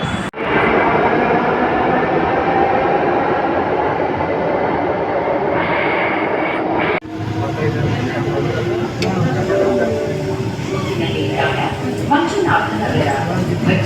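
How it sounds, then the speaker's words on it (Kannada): A new Bangalore metro train runs with a loud, steady rumble and rail roar heard from inside the carriage. The sound shifts abruptly midway as the train changes track or enters a section, and faint voices sit under the din. "ಇವಾಗ ನಾವು ಮೆಟ್ರೋಗೆ ಬಂದಿದ್ದೀವಿ."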